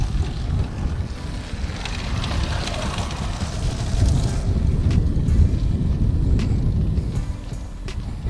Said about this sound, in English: It's a bit windy right now.